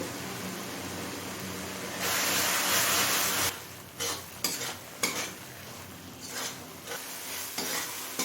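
Spices with ginger, garlic and chili sautéing in a pan for chicken ghugni, a steady frying sizzle with stirring that swells louder midway, then breaks into choppy scrapes and bursts of sizzle.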